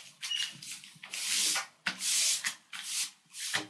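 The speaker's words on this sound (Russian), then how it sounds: "Теперь заворачиваем одну часть газеты." Newspaper sheets being folded by hand into a paper cap, with repeated crisp rustling and rubbing bursts as the paper is creased and smoothed, close and fairly quiet, no talking.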